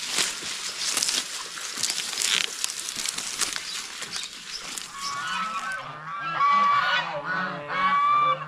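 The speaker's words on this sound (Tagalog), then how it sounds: "Yung mga gansa natin, oh, nasa labas lang." Geese honk loudly outdoors on a farm, repeated calls overlapping with fluttering and shuffling noise, close to the microphone, no voices.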